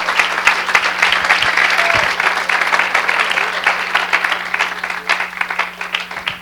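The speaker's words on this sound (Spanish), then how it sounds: "Den un aplauso al Señor en esta mañana." A worship congregation on a church morning breaks into loud, dense applause for the Lord, a steady roar of clapping with a low electrical hum beneath it.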